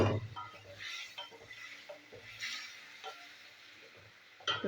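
A bottle gourd and rohu fish curry being stir-fried in a pan: quiet, scattered scraping clicks of a spatula over a faint background sizzle.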